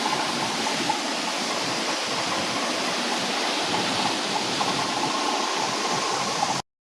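A waterfall near a Shiva temple pours in a steady, loud, dense rush of water that runs unbroken until it cuts off abruptly at the end.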